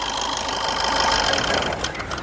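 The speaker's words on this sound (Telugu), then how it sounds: "ఈ కారు యాక్సిలేటర్ ఇచ్చేసి కారు ఇంజన్ యొక్క నాయిస్ అనేది వినిపిస్తా అండి మీకు" A 2015-16 Maruti Suzuki Swift Dzire VDI diesel engine runs with a loud, steady, close mechanical clatter and a slight knock, holding an even level throughout with no voices over it.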